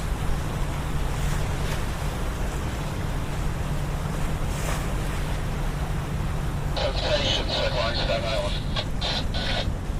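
A boat working through choppy river water in New York near the UN building, with a strong wind blowing north. Wind buffeting and slapping chop make a loud, continuous roar, and a few sharper splashes come near the end.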